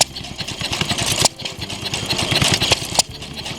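A small vintage hit-and-miss engine chugs at an outdoor engine rally, driving a water pump through a 4-inch canvas belt, with a close, rapid, regular thumping beat and mechanical clatter.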